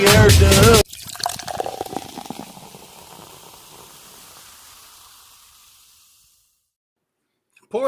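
Beer pours into a glass after a burst of music, a close bubbling, fizzing gurgle that slowly thins and fades to silence before the music returns.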